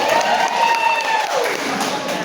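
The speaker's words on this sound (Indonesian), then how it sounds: "kita tepuk tangan dulu untuk kita semua Bapak Ibu" An audience applauds at a farewell-and-welcome ceremony held by a district health office, a steady wash of clapping with a faint ringing tone running beneath it.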